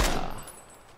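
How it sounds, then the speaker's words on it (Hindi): A single SKS rifle shot in PUBG: a sharp, loud blast at the very start that quickly fades into a short reverberant tail, with no voices. "ये बात, मेरी फेवरेट गन बन चुकी है SKS"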